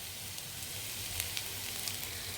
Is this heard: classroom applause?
no